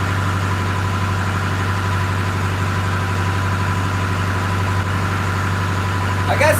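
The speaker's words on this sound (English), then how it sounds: "I guess the boat sounds good with the new oil in it." A boat engine idles with a steady, loud, low droning rumble that holds constant throughout.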